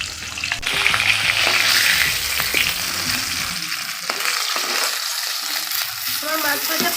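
Fish sizzles and spatters steadily in plenty of hot oil in a wok, the frying loud and close throughout without any speech.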